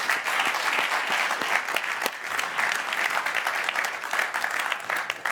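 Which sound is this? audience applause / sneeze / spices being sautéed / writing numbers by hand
audience applause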